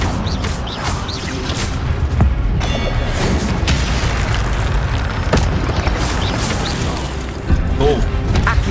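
Repeated Incendio fire spells cast in Hogwarts Legacy, booming whooshes and crackling bursts layered over a dense, loud game soundscape with brief thuds.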